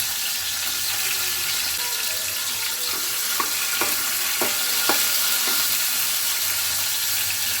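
Cumin, mustard seeds, chopped onion and green chili fry in hot oil with a steady bright sizzle, while a few sharp crackles and pops from the seeds rise above it midway.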